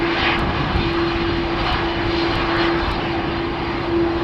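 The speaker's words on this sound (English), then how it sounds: "we are seeing an aborted takeoff" Delta Airbus A330 jet engines roaring steadily during an aborted takeoff at Schiphol Airport, a loud continuous drone with a sustained tone running throughout, heard from a distance with no talk.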